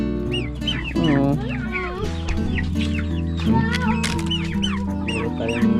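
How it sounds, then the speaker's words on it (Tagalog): A group of about nine month-old young turkeys peep and cluck in rapid, overlapping calls, close by, with a person's voice mixed in among them. "Mga anak ng pabo."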